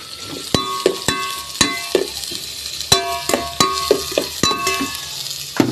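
Onion, garlic and ginger sautéing in a pan for chicken tinola, with a steady low sizzle broken by sharp, regular utensil clanks and scrapes roughly every half second.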